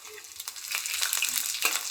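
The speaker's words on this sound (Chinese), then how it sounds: "再来几瓣拍蒜" Smashed garlic cloves and ginger slices fry in goose fat in a wok, a close, crackling sizzle that builds and holds, broken by spatters and light stirring scrapes.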